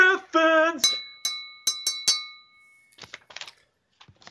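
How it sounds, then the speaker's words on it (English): A glass holding water is struck several times, giving sharp clinks that settle into sustained ringing tones, followed by a few softer taps; a sung or hummed tone opens the sequence. "if you put different levels of water in it, it will make different sounds."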